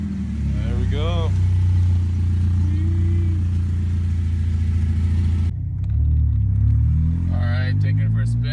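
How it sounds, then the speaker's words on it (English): A car fitted with an eBay oil catch can idles with a loud, deep rumbling exhaust, the low drone steady throughout, with a brief dip midway before the heavy idle resumes. "Its exhaust is so loud."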